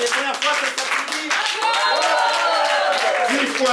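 Audience clapping at a slam poetry tournament, a modest crowd applauding steadily, largely covered by a voice speaking loudly over it into a microphone.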